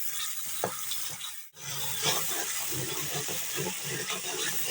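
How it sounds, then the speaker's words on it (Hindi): Tomatoes frying in a spiced masala for beef keema, a close, steady sizzle with scraping stirs and short clinks, briefly cut off for a moment partway through. "टमाटरों को हमने 3 से 4 मिनट तक भून लिया।"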